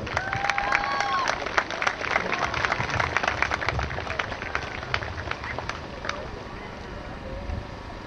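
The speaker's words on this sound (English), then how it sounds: "Let's give the girls and yourselves a round of applause." Outdoors at a youth sports league's opening ceremony, the crowd claps for a few seconds. The moderate, scattered applause sits under wind noise and background murmur.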